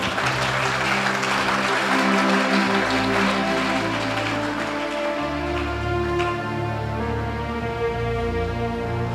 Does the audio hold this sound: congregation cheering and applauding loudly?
yes